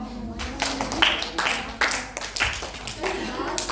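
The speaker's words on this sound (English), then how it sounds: "Give applause to them" Clapping from a classroom audience during a microteaching lesson, a scattered patter of hands with voices talking over it throughout.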